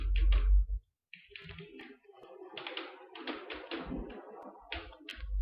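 Typing on a computer keyboard while filling in a form, with bursts of quick key taps separated by short pauses and a few heavier thumps, fairly close and alone without talk.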